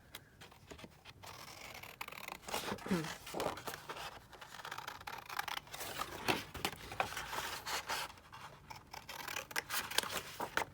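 Scissors snip through paper to cut out a single printed word from a book page, a series of close, crisp snips and rustles with soft paper handling between cuts.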